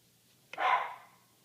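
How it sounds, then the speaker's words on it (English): A dog barks once, a single short, fairly close bark standing out against a quiet room with no talking. "Sorry, that's my dog."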